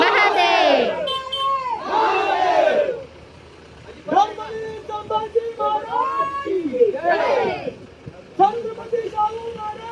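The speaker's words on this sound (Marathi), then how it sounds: "फुल गर्दी झालेली आहे." Dense crowd murmur at Raigad fort ahead of the Shivrajyabhishek coronation celebration, with nearby voices shouting and talking over a steady background of many people.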